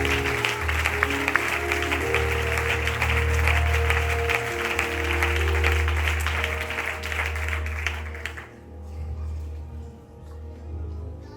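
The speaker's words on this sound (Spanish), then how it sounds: "Un aplauso a esta palabra" Congregation applause in a Spanish-language church service, a sustained wash of many hands clapping over a low, steady hum, running for several seconds before cutting off abruptly into near quiet.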